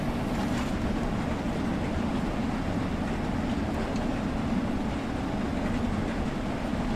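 Diesel locomotive in Train Sim World 3 climbing a hill on the Peak Forest line between Chinley, Buxton and Ambergate, giving a steady loud rumbling drone of engine and rail noise that stays even throughout.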